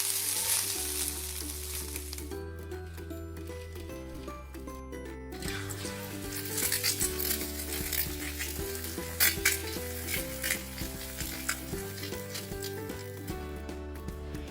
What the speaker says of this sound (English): keep stirring to prevent the rice from sticking to the pan